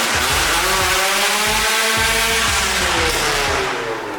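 A Nissan S13 engine runs very loud inside a shop, a dense, continuous roar with steady harmonic drone that holds level throughout and eases only slightly near the end, no talking.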